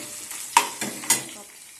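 Onion, garlic and chopped green chili fry in a pan for chitranna rice, with a soft steady sizzle and three sharp stirring scrapes close by.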